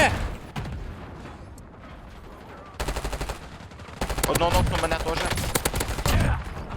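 Rapid gunfire in Warzone crackles in dense bursts, growing heavier and more sustained toward the end, with a voice speaking briefly underneath.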